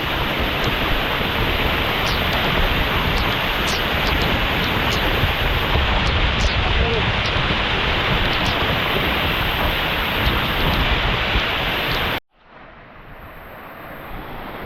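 Steady, loud rush of a jungle stream flowing downhill along a village, broad continuous water noise close by that cuts out abruptly near the end, leaving a quieter background.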